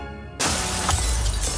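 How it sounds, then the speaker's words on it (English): A freshly made slab of glass is smashed in a glass-making factory, giving a sudden loud crash followed by a sustained, dense shattering and tinkling of breaking glass, close by, with no talk. "Why are they smashing it up?"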